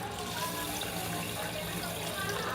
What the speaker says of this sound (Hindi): पानी डालेंगे इसमें